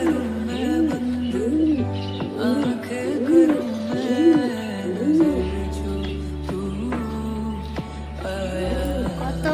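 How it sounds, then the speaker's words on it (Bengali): A young pigeon kept in a cage coos in a steady run of soft, rolling, repeated calls close by, with faint talk around it and quieter stretches toward the end. "এই যে আমাদের বেবি কবুতরটি"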